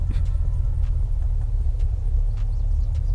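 A low, steady engine rumble of a car driving in the video game Unturned, continuous and fairly loud, with no voices.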